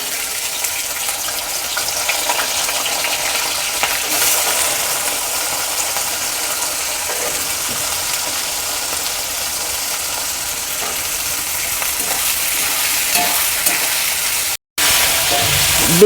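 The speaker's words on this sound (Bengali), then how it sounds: "বিনসগুলো আমার এখনও ভাজা হয়নি, এগুলোকে আমি ভালো করে একটু ভেজে নেব" Green beans frying in hot white oil, a steady loud hiss and crackle that runs continuously, with a brief cut near the end.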